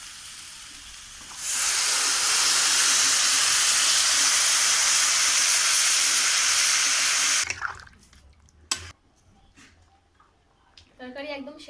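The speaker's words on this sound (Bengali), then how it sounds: "মশলা কষিয়ে নেওয়া হয়ে গেছে, এবার আমি জল দিয়ে দিচ্ছি।" Water poured into a pan of spiced green banana curry hisses and sizzles loudly for several seconds, then stops, leaving quieter kitchen clatter and a voice speaking.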